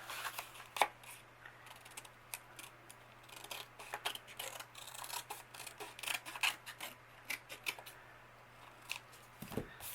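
Scissors snip along the edge of a handmade paper tag in a run of quick, crisp cuts, close and fairly quiet in an otherwise still room.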